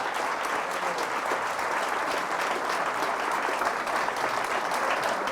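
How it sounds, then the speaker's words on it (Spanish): Loud, sustained applause from a church congregation, many hands clapping in a dense, steady roar that holds evenly from start to finish. "Fuertes aplausos"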